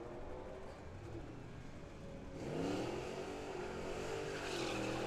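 Drag racing cars including a Mustang at Firebird Raceway in Phoenix, a distant engine drone that swells into louder revving acceleration partway through, with no voices.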